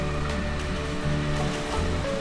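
A waterfall roars in the video game Star Trek Online, a dense, constant rush of water that holds steady and loud throughout.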